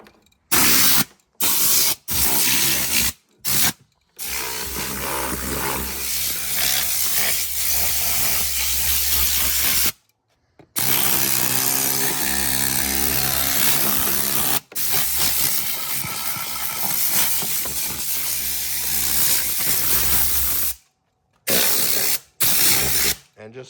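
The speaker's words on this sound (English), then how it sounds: "the trusty blower again" A loud, hissing rush of blown air from a blower cleaning out a car interior runs in long bursts, cutting off briefly between blasts, close and forceful.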